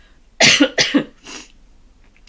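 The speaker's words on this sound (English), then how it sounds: "I have this cough" Two or three quick, close coughs in a rapid cluster, loud and abrupt, followed by a softer trailing hack and then quiet.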